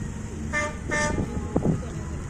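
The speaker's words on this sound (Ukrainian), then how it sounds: "люди бачать в машині, що ми стоїмо, дивимось і сигналять нам, вітають" Two short car-horn toots from passing vehicles greeting onlookers at a roadside St. Nicholas Day event in Canada, followed by road traffic noise and brief voices nearby.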